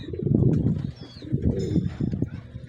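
Racing homer pigeons coo in low, rolling bursts close by in a loft, several overlapping calls with a few short pauses between them.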